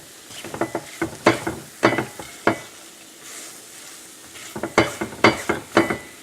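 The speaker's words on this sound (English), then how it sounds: "we'll add the cardamom powder in at the same time and mix it all really well" A spoon stirs and mashes a thick mixture of figs, dates and nuts with cardamom powder, giving bursts of sticky, scraping strokes that come in rapid clusters with a brief pause in between, loud and close.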